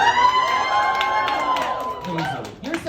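Comedy show audience at RISE Comedy cheering and applauding, loud whoops and clapping that swell then fade, with a voice speaking over the tail.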